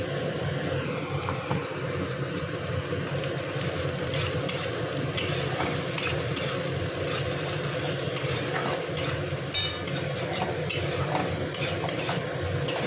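Ground spice paste hits hot oil with fried onions in a pan for a bottle gourd greens curry, giving a steady close sizzle under repeated scraping strokes of a spoon against the pan.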